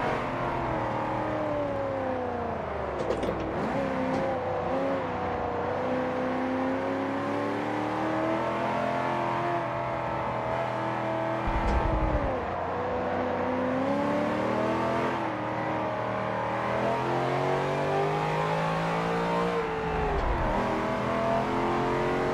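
A Holden race car engine drones steadily for over twenty seconds in Forza Motorsport 7, close and continuous, its pitch rising and falling through shifts and corners, with a few brief dips and thumps along the way.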